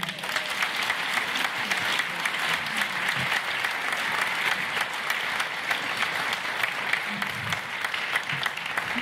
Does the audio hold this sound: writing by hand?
no